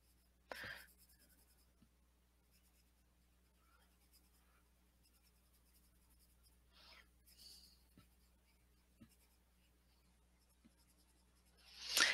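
Faint, soft scratching of a colored pencil on paper in short scattered strokes against a quiet background, with a louder rustle at the very end.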